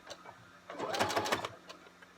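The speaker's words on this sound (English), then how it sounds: "And then you're gonna sew down all the way to the other end." A sewing machine stitches elastic into a fabric face mask in a short, quiet burst of rapid mechanical ticking that peaks midway and fades, with a few faint clicks around it.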